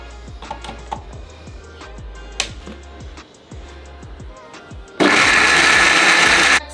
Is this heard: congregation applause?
no